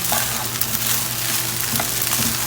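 Rice frying in a hot pan, giving a loud, steady, close sizzle with faint scraping stirs throughout and no talking.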